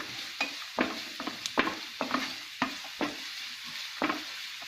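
Onions and peas fry in a pan while a spatula stirs them in a steady rhythm of close scraping strokes over a continuous sizzle.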